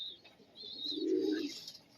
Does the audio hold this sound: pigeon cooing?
yes